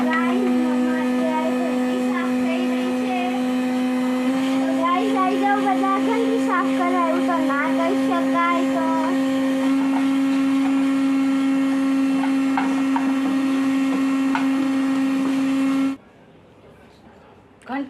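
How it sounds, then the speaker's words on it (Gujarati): A vacuum cleaner sucks flour out of a home flour mill. It drones with a loud, steady whine for about sixteen seconds, then cuts off abruptly, and voices can be heard under the motor. "ઘંટીને સાફ કરવા માટે સૌથી પહેલાં તો મેં વેક્યુમ ક્લીનર લગાવી દીધું છે"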